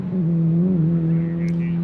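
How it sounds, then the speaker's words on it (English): A turbocharged GLTC touring race car engine at GRIDLIFE South Carolina drones steadily at high load, a loud, continuous tone with slight pitch shifts as it passes on track, with faint higher whine near the end. "the sound that these cars make when they are hard into that turbo"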